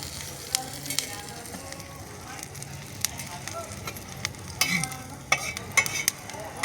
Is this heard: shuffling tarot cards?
no